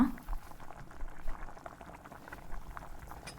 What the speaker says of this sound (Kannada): ಸ್ವಲ್ಪ ನೀರು ಹಾಕಿ ಇದನ್ನು ಒಂದು ಹತ್ತು ನಿಮಿಷದಷ್ಟು ಬೇಯಿಸುವ